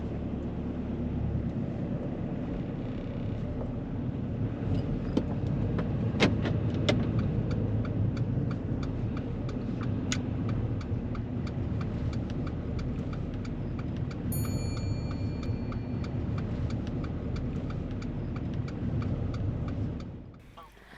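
A car drives slowly out of a car park during a driving test, its engine humming steadily inside the cabin with a few clicks and ticks before the sound drops away at the end.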